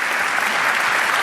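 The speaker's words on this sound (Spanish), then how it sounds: "Un aplauso para ellos" An audience at an annual Andbank strategy conference gives a burst of dense, steady applause that stays at full strength for its whole length, with no voices heard.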